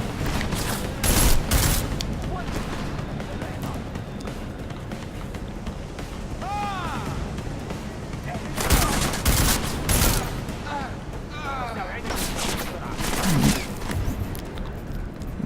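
Flashbang grenades burst in a Deus Ex: Mankind Divided firefight, two sharp loud blasts around the start and middle amid gunfire and game effects, with voices talking over the action.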